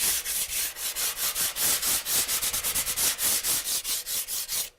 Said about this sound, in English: And then we'll just give it a light sand, just like before on the color bond stuff.